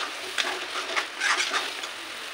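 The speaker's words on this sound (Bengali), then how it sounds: "এখানে আমি দিয়ে দিচ্ছি টমাটো পিউরি, যেটা টমাটোটা পিছিয়ে রেখেছিলাম, এটা দিয়ে খুব সুন্দর ভাজতে হবে।" Tomato puree frying in a pan for a Maharashtrian vegetable dish, giving a steady close sizzle broken by a few stirring scrapes, with no talk.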